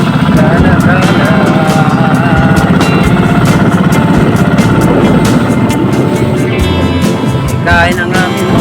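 The motor of a fishing boat runs on Laguna de Bay, a loud, continuous low drone that holds steady from start to finish while people talk over it.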